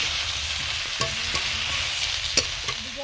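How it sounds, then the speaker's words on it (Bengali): Pieces of eggplant fry in oil in a pan while being stirred, producing a constant close sizzle broken by a few sharp spatula scrapes and clinks, with no voices. "বেগুনগুলো হালকা ভেজে নেবো, বেশি ভাজবো না।"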